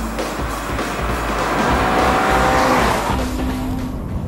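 2013 Scion FR-S sports car driving with a loud, steady engine roar and road noise from inside the car, a sustained drone that swells slightly midway.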